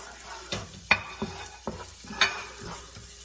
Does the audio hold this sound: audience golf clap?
no